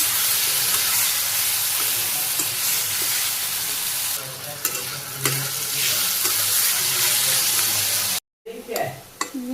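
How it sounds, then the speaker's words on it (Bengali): Potatoes sautéing in oil with cumin in a village kitchen, a steady loud sizzle with stirring scrapes throughout, cut off by a brief silence near the end before the frying resumes. "আলুগুলো ভালো করে সুন্দর করে কষিয়ে নিলাম"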